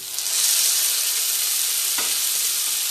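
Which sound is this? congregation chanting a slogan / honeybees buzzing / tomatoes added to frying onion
tomatoes added to frying onion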